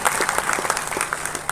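A seated audience at a startup reality TV show launch in Tamil Nadu gives a burst of dense, steady applause from many hands, with no voices over it.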